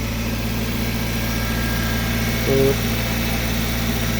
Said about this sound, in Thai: เครื่องยนต์ตอนนี้ทำงานแล้วนะครับ